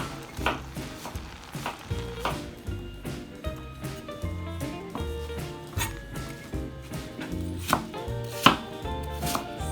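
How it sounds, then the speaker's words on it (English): A knife slices through an apple on a board in quick, crisp, regular cuts that run steadily from start to finish, close and clear, with no talking. "Slice it up, roughly slice it."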